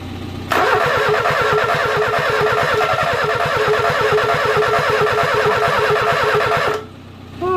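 A Renault 10 engine, fitted with a replacement carburetor, turns over and catches, then runs with a loud, rapid, steady throb for several seconds. It dips sharply near the end before picking up again.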